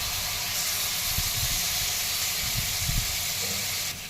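Chopped tomatoes hitting a hot pan with onion for a potato and okra dish set up a steady, close hiss that carries on evenly for several seconds.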